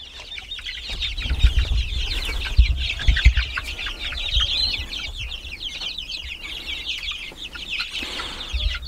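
Chicks of different ages in an outdoor plastic brooder, a constant chorus of high peeping and chirping with occasional louder clucks and low thumps, close and busy.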